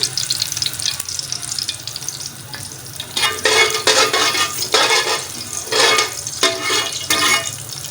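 Steady, busy sizzling and crackling from gram flour roasting in a hot pan, with occasional scraping stirs, no voices.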